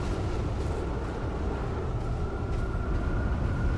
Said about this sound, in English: it sounds like we're about to get by a tornado